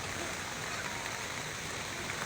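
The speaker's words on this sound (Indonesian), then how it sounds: "Hujan." Rain falls at a landslide-damaged road in Simalungun, a constant broadband hiss of downpour, steady and uniform throughout.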